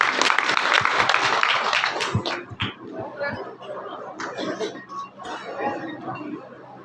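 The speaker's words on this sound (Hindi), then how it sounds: "एक बार जोरदार तालियों से इनका स्वागत किया जाए" Applause welcoming guests at an outdoor village tree-planting event in India, a burst of clapping that fades within about three seconds, followed by crowd murmur and voices talking, with no clear clapping afterward.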